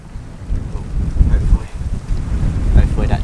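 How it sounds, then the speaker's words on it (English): Gusty wind outdoors among rocks, buffeting the microphone with a low, rumbling roar that swells and fades in uneven surges, loud and close throughout. "Oh, it's getting pretty windy out now, eh?"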